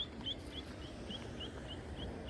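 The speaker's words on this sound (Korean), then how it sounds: "정말 뭐 새소리밖에 안 납니다" Faint, repeated high chirps from birds at a regular pace over a low outdoor rumble at a wild car-camping spot, distant and quiet.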